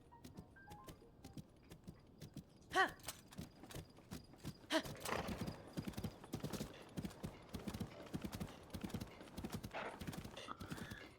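Rapid hoofbeats clatter steadily from Zelda: Tears of the Kingdom, with a brief whinny early on and jingling tack, rhythmic and close throughout.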